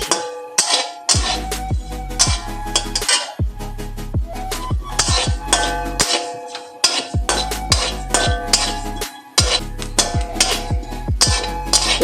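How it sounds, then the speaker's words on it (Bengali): Cumin seeds dry-roasted in a metal wok (kadai), stirred with a spatula that scrapes and clinks against the pan in repeated close, rhythmic bursts with short pauses. "প্রথমে কড়াইতে আমি জিরাটা ভেজে রাখছি"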